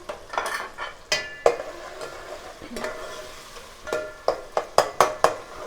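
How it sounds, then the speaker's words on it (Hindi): Tomatoes with crushed chili fry in a pan, a gentle sizzle under repeated loud metallic clinks and scrapes of a spoon stirring, clustering rhythmically toward the end, with no speech. "अब हम टमाटर भून के इसके अंदर लौकी को छोड़ेंगे।"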